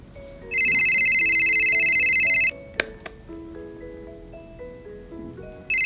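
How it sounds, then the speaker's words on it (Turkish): A phone's electronic ringing tone plays loudly and steadily for about two seconds while a call is placed. It then stops, leaving light toy-like melodic tones and a few clicks, and the ring starts again at the very end. "Ulaşamıyorum Nilo'ya ne yapacağız"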